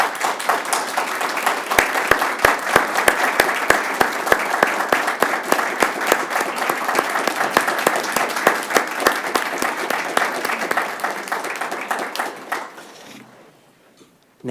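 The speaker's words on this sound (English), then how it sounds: "let's give her a round of applause" A city council meeting audience gives a sustained round of applause for the new city manager, loud, dense clapping with crisp individual hand claps, continuing steadily for about twelve seconds before fading quickly to silence.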